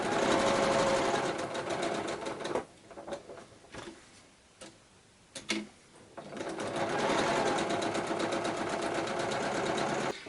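A sewing machine stitches fabric squares for a quilt block, running in steady fast bursts at the start and end with a quieter pause between, close and loud.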